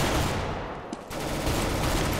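Gunfire in Counter-Strike: Global Offensive, a steady loud barrage of overlapping shots with a brief dip in the middle before the shooting resumes at full intensity, with no talking.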